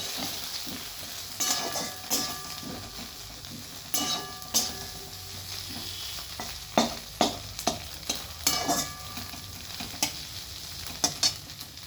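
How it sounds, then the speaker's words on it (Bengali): A spatula scrapes and stirs Maggi noodles, egg and vegetables frying in a pan, with a steady sizzle underneath and repeated sharp clanks of metal against the pan, close and with no talk. "দিয়ে সব কিছু ভালোভাবে আমি মিশিয়ে নিচ্ছি।"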